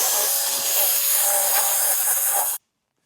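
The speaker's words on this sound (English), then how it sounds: "spray some of that on the seats, hit them with the drill brush" A drill-driven scrub brush works cleaner into the seats of a classic Corvette interior, giving a steady close whir and bristly hiss that runs without a break for a couple of seconds, then cuts off abruptly.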